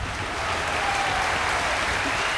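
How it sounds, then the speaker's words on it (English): A crowd at a village pantomime breaks into applause, a steady wash of clapping, fairly quiet and even throughout, with no voices on top. "The sound of applause."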